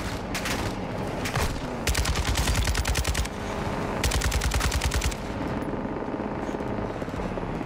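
Bursts of light machine gun fire in Call of Duty Modern Warfare 2, with two loud sustained volleys of rapid shots over a continuous roar of helicopter and battle noise.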